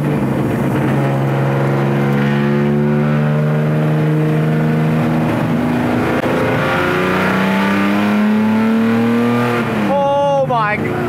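A loud, high-revving engine of a Nissan 240Z salt flats race car roars steadily close by at full throttle, its pitch climbing, then a sharp rev spike near the end.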